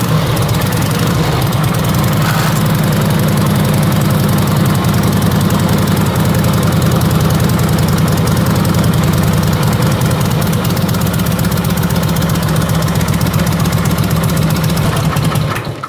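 A motorcycle with a single exhaust idling, a loud, close, steady low thumping pulse that keeps an even rhythm without a break until it cuts off at the very end.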